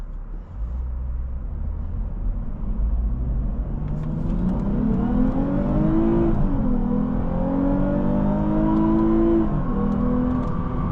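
A 2022 Lexus IS 350 F Sport engine revs and accelerates steadily, its pitch climbing through the gears, close and loud with continuous road noise underneath.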